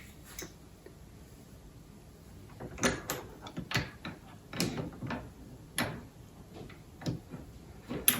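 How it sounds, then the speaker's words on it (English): A large wrench tightens the die locking nut on a Lee Classic Turret Press during .357 Magnum die setup, giving a series of sharp metallic clicks and taps at irregular intervals, close and fairly quiet, with near silence in the first few seconds. "I'm going to lock down this locking nut here with my gigantic wrench"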